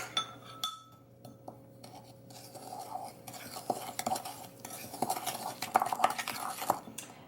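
A spoon stirs maple sugar into an applesauce mixture for a vegan pineapple upside-down cake, scraping and clinking against the bowl close up. The stirring grows busier toward the end, with no talking.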